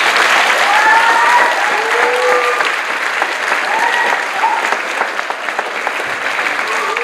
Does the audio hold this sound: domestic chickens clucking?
no